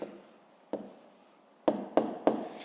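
Handwriting an answer for a fifth-grade maths exercise: soft scratchy pen strokes, then three sharper, louder strokes in quick succession near the end, close and quiet with no talking.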